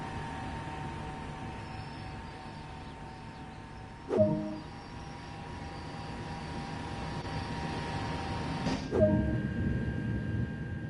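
A high-speed train in a video game rumbles with a steady drone while in motion, broken twice by sharp metallic clunks a few seconds apart.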